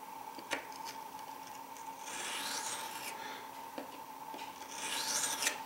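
A standard Mora knife is stroked across a semi-hard Bester 700 waterstone, giving quiet, continuous rasping scrapes in repeated back-and-forth passes with a few light clicks.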